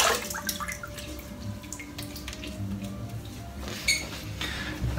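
Tap water runs steadily from a faucet as a face is wetted during a wet shave, with faint clinks and splashes near the sink, loudest moments briefly swelling over the constant flow.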